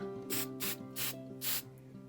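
Four short hissing bursts of an aerosol spray paint can on diorama trees, spaced about half a second apart, close and fairly quiet over a low hum.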